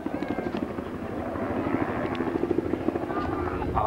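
A model aircraft with twin pulse jet engines makes a flyby, a rough, rapid pulsing drone that builds steadily louder as it approaches, heard outdoors with people talking over it.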